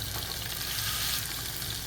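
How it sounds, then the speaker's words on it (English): A single big burger patty frying in oil in a pan, a dense steady hiss and crackle of sizzling, close and continuous, without talk. "now we got one big patty"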